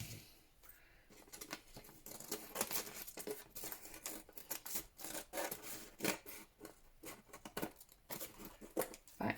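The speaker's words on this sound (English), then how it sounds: "let's get our scissors and let's trim this up" Scissors trimming sheets of coffee-dyed paper, giving a run of close, irregular rasping snips and rustling paper handling with no talk.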